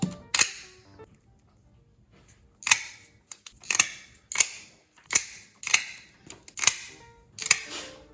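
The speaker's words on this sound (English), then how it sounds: "We'll start with our rotary punch here and punch the holes for the posts." A rotary leather punch cuts post holes in a leather bracelet strap, giving about nine sharp, separate snapping clicks at an uneven pace. They sound close and clear, with quiet pauses between them.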